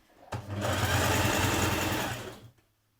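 A sewing machine runs with a twin needle, stitching leggings in one continuous burst of close, even whirring that starts abruptly and stops after about two seconds.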